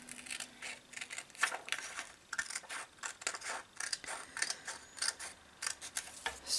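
Scissors snipping through a paper pattern for a small doll skirt, a close, steady series of crisp blade clicks and crunches repeating every half second or so, with no talking.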